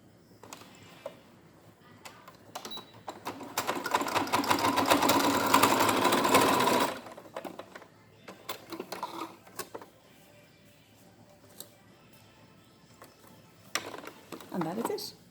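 A sewing machine runs along the folded edge of a fabric face mask, producing a brisk, continuous mechanical whirring and clicking for several seconds before stopping, with light handling sounds and some speech afterward.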